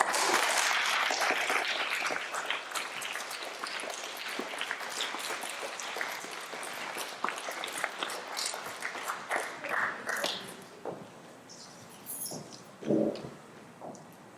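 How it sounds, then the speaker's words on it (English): Applause from a school presentation audience for the 2021 Environmentalist of the Year, dense clapping that carries for several seconds and then thins into scattered claps with a few later bursts. "Can we give Hallie another round of applause?"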